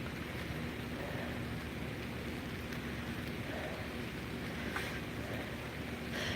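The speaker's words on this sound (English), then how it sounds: "But the rain is coming again." Steady rain falls outside with a dense, even patter and hiss, mixed with soft wind rumble, holding at a constant moderate level for several seconds with no voices.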